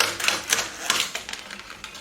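Jammed paper pulled from a printer as its rollers turn, a fast run of sharp mechanical clicks and ratchety taps up close, uneven in rhythm, with no talk.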